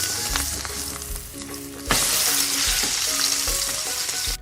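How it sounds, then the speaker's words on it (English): An egg fries loudly in a pan, a dense steady sizzle broken by clicks and scrapes of a spatula, with a sharp burst of crackle as it is flipped partway through. "once the egg is cooked on one side, flip it over using the spatula"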